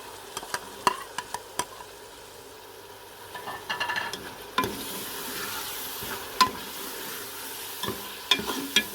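Sliced tomatoes sautéing in a pan for a shahi mutton korma, with a steady close sizzle broken by sharp scraping and clinking stirs, growing louder and denser midway as the tomatoes hit the hot fat.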